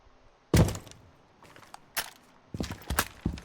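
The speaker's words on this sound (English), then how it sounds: "This is what dropping a hatch sounds like." Hatch being dropped in Rainbow Six Siege: a heavy thump with crunching debris, followed by a few scattered thuds and landing impacts, close and fairly loud with no talk.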